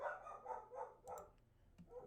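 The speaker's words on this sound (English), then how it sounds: "What are you barking at, Maisie?" A dog barks in a quick run of several short, close, moderately faint yaps, then gives a couple more scattered barks after a brief pause.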